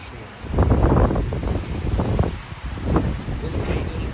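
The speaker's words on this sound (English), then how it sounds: "Oh my god, there's so much wind." Strong wind at an outdoor campsite buffets the microphone in loud, uneven gusts. A person talks underneath it.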